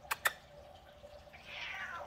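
A house cat gives one faint, drawn-out meow with a falling pitch near the end, after two sharp clicks at the start, all over a quiet indoor room hum.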